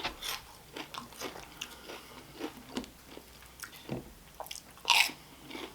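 Crunchy bites and chewing of a McDonald's meal with 3D Doritos, close and intimate, a string of irregular crunches and wet mastication with one louder crisp crunch toward the end.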